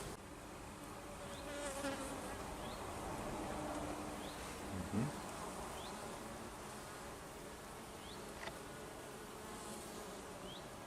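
Honeybees buzz steadily around an open hive during a hive visit under stormy weather, a close, continuous insect drone with occasional louder passes near the ear, outdoors with faint background ambience and no talk.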